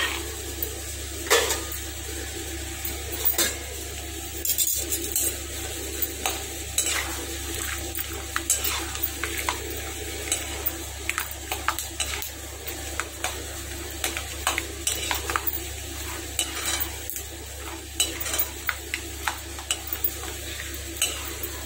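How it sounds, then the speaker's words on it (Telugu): Puffed rice, corn flakes and peanuts are dry-roasted and stirred in a pan over low flame, a steady rustling scrape broken by irregular light clinks and taps of a spoon against metal, close up and moderately quiet. "అలాగే మనం వేరుశనగ గుళ్ళను కూడా వేపుకోవాలి."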